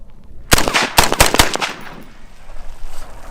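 Gunshots fired out over a frozen lake outdoors: a quick run of about six loud, sharp cracks within roughly a second, then a fading rumble across the open ice.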